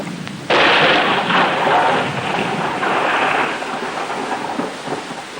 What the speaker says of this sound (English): The day's events are interrupted by heavy rain.